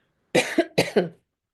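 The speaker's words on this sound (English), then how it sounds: "the reason I'm coughing" Two quick pairs of dry, close coughs, each a sharp burst followed by a shorter one, then silence.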